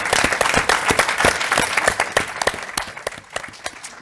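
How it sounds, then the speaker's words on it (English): Applause from a live audience for panelists at a university discussion event, with individual claps distinct and close, gradually thinning as it tapers off. "a huge thank you and round of applause to these amazing panelists."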